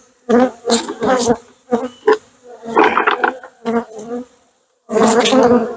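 Honey bees from a swarm that has been moved into a hive buzz in close, loud bursts of droning, broken by short quiet gaps and returning strongly near the end.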